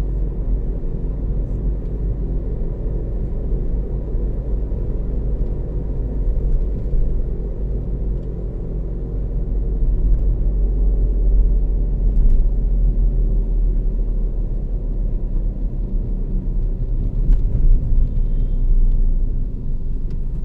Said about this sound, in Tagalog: Traffic update dito sa location na ito.